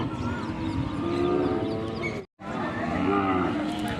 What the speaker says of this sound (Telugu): ఇవి బుడ్డి దూడలు ఇవి చాలా బాగున్నాయి